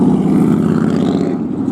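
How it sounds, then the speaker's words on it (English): Noisy cars pass on a street beside a rounded art moderne steak shop cafe on Route 66 in Tucumcari, New Mexico, giving a loud, steady engine rumble with no talk. "These noisy cars on the side there."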